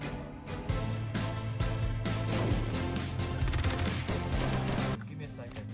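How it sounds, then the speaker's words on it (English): Flashbang grenade detonations and loud gunfire bursts in a video game, dense repeated cracks and crashes over layered game music, with voices faintly present. "throw a flashbang."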